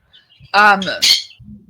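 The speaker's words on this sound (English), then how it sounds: "Sorry, the bird's flying all over the place." A pet bird flying around indoors gives a few bright, loud chirps in quick succession, close by and clear, with faint background sounds between calls.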